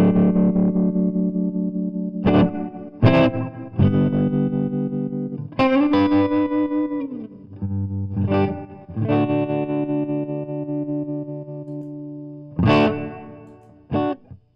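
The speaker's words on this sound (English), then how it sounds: "So you get a good sound in tremolo and a good sound in reverb with plenty of options in one medium-sized convenient pedal." Electric guitar played through a Fender Tre-Verb tremolo and reverb pedal, loud and close: sustained chords and single notes with pulsing tremolo and a reverb wash, phrases separated by short breaks.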